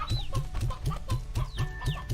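Chickens in Slime Rancher cluck in a quick, steady rhythm of short repeated calls, close and fairly loud, with higher chirps scattered over the top and no talking.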